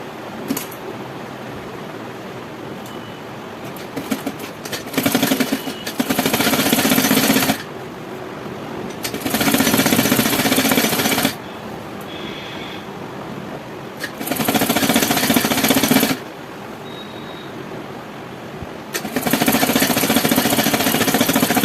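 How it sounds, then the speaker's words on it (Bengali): A sewing machine stitching a shirt: several bursts of rapid, loud mechanical chatter a few seconds long, separated by quieter pauses with faint handling noises, heard close. "রেখে আমি এটা সেলাই করে নিচ্ছি"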